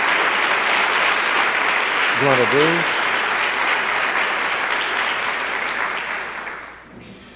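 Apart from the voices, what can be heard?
applause in church congregation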